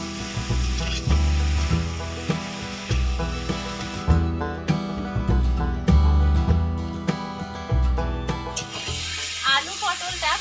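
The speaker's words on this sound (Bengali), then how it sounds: "এবার আলু পটলটা মশলার সঙ্গে ভালো করে কষে নেব।" Potato and pointed gourd being stir-fried with spices in a pan, a steady loud sizzle with rhythmic scraping and stirring strokes throughout, with no talk over it.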